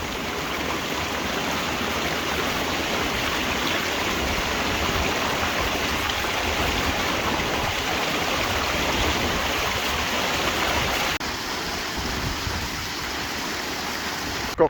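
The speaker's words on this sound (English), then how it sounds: "Got caught in a pretty decent downpour right now" Heavy rain pours steadily during a mountain climb, a dense, even hiss close around the listener with no speech, easing slightly in the final few seconds.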